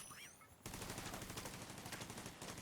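Video game turrets open up in sustained rapid automatic fire after a short quiet lead-in, loud and continuous to the end.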